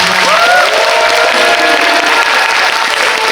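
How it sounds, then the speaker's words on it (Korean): Loud, dense audience applause fills a Busan International Film Festival screening Q&A for the film Broker, a continuous roar of clapping with faint tonal sounds and light cheering beneath it. "큰 박수 부탁드립니다"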